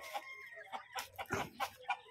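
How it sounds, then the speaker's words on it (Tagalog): Rhode Island chickens cluck in a series of short, soft calls at an even pace, close by and fairly quiet with no talking. "So yan guys ang kaniyang mga manok guys."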